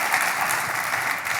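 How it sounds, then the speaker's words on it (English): An audience at a digital health interview event fills the room with steady, dense applause, many hands clapping evenly without pause and no voices on top. "So please give them both a round of applause if you could."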